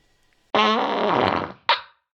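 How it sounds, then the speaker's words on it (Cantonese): Cartoon fart sound effect for a big fly in a children's story, one long, loud, buzzing blast followed by a short second puff. "原來係有隻大烏蠅向住隻蝴蝶放咗個大臭屁啊"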